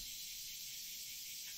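Cicada-like insects buzz in a Battle Cats stage, a constant high, shrill drone that stays unbroken and fairly loud throughout with no talk.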